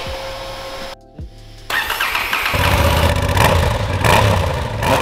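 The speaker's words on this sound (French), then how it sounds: "mettre le contact de votre moto et faire un test de démarrage" A motorcycle engine cranks briefly during a battery test, falls quiet for a moment, then catches and roars into a loud, steady idle.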